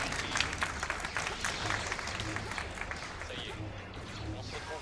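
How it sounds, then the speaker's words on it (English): Live audience at a speedrun marathon event clapping in a dense, steady wash of applause that fades slightly toward the end, with a voice talking over it. "can we please get a clap for that?"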